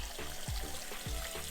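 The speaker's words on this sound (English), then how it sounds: "We're gonna drain this, and then we're gonna add some cold water to it." Hot water drains out of a pot of boiled eggs, splashing and gurgling in a few uneven pulses as it pours into a sink, close and moderately quiet.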